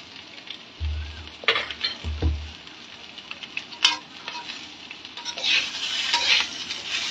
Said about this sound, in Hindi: अब हमने यहाँ पर टेस्ट के अकॉर्डिंग नमक ऐड कर दिया और इसे हल्का सा हमें भून लेना है।